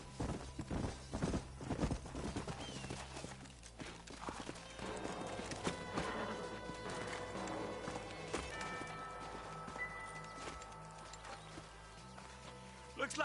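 Horses' hooves clip-clop in the Red Dead Redemption video game, walking steps that start sparse and then settle into a steady rhythm, with a whinny, voices speaking and a faint musical score underneath.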